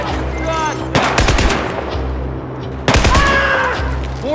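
Automatic gunfire in a video game firefight: two loud rapid bursts of shots up close, separated by a brief lull, with ringing high tones trailing the shots.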